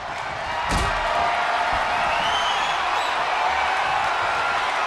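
Arena crowd noise from the WWE 2K25 wrestling game, a steady loud roar of cheering with a sharp impact early on and faint commentary mixed under it.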